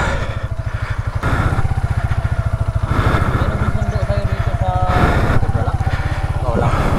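A motorcycle engine chugs loudly and close in a fast, steady pulsing rhythm, with a brief rev swell partway through, while voices talk over it.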